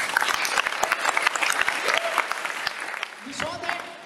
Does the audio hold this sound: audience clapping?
yes